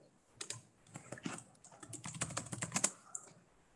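Rapid, uneven clatter of someone typing keyboard shortcuts on a computer keyboard, close and moderately quiet, with no talking.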